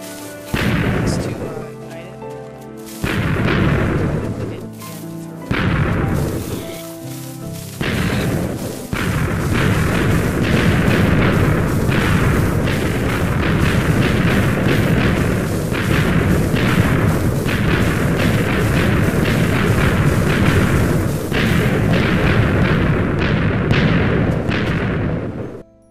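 TNT and dynamite-style explosions from Balkon's Weapon Mod in Minecraft, a rapid series of loud, deep booms that start as separate blasts, then pile into a continuous rumbling barrage, with a voice faintly under the noise.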